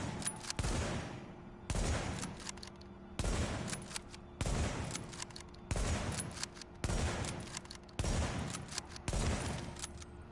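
Video game gunfire landing headshots: eight evenly spaced, loud rifle-like blasts, each cracking sharply and then trailing off, repeating at a steady rhythm of roughly one every 1.3 seconds.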